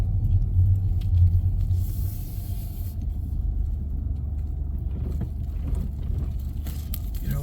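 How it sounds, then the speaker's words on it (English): A car rolls slowly over speed bumps in a parking lot, a steady low rumble from inside the cabin with a heavier thump early on, then a smooth, even drone. "Over the speed bumps here."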